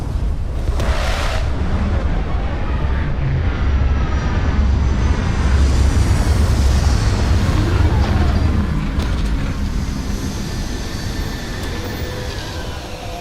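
A spaceship's landing engines roar in the video game Starfield, a loud, continuous rumbling thrust with shifting whooshes and rising tones throughout.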